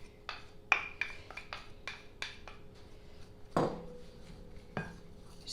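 Soda bread ingredients are stirred in a bowl, with a spoon giving a steady run of light scraping taps and clinks close by, including one louder knock midway.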